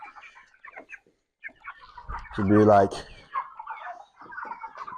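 Broiler chickens clucking and calling while being fed, a loud burst of fowl vocalisation in the middle with quieter clucks around it, under someone talking.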